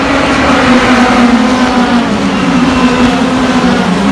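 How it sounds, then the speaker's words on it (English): Formula Renault single-seater race cars at the Spa circuit in Belgium, a loud, steady high-revving engine roar that holds nearly constant throughout, with no talk. "Formula Renaults, they sound pretty good around here."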